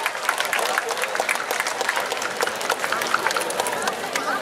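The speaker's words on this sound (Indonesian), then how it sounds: "Tepuk tangan untuk para IKM UMKM kita." A large crowd claps steadily at a Bali arts festival closing ceremony, a loud, continuous rattle of many hands sustained evenly for over four seconds.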